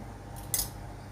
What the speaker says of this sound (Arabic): بحط معلقتين بن